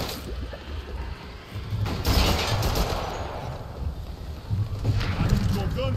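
Rapid gunfire from the video game Primal Carnage Extinction crackles in dense bursts over a steady rumble, loudest around the middle and again near the end, with a voice talking over it.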